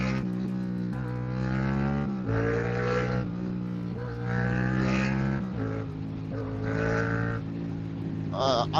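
A Yamaha FZ-6 motorcycle engine revs in aggressive, rising and falling surges, a loud and harsh howl that climbs through several pulls with brief dips between them, heard close up with no speech.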